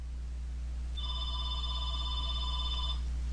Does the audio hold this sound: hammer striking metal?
no